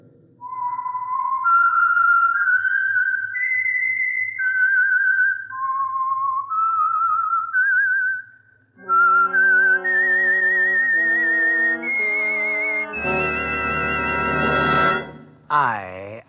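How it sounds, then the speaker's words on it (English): A melodic whistled theme signal for the Signal Oil radio program The Whistler, clear and sustained with rising and falling notes, heard alone before swelling orchestral music joins and then takes over. "That whistle is your signal for the Signal Oil Program"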